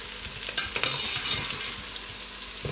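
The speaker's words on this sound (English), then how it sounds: "So this is dry fry." Beef dry-frying with paprika in a pot, a steady close sizzle with scraping stirs and light clinks of the utensil against the pot, no voices.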